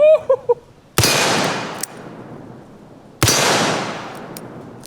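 Two very loud, close gunshots from a Toklat 454 Casull hand cannon revolver, each a sharp blast with a long ringing decay, with a brief voice just before the first.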